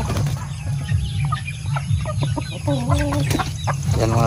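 Rhode Island chickens clucking in a farm coop, several hens making repeated short clucks and a few drawn-out calls over a constant low background rumble, fairly close.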